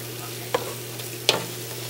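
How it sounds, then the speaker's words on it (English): Thin rolled fried apple pies cook in hot oil, a low steady sizzle marked by two sharp knocks or clinks of a utensil against the pan. "you can see they don't take long to fry because I've got them rolled up pretty thin"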